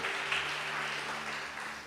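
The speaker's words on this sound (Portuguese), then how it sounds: "Quem pode aplaudir o Senhor?" Congregation applauding during a church sermon, a steady dense wash of clapping at moderate level throughout, with a faint hum beneath.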